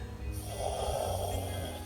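A dog with a cold on a snowy day breathes with difficulty, giving a steady, close, raspy snoring snort throughout, with no talking.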